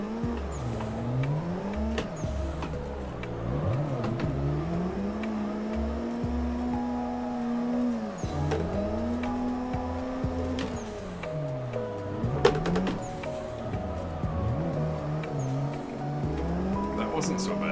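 Car engine in a sim drifting game, revving and falling in long sweeps with tire squeal through tandem drift runs, steady and close throughout; someone talks over it.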